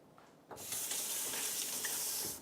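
Soaked oats being strained, with a steady gush of water pouring through a strainer into a sink, starting abruptly and running continuously at close range before tapering off.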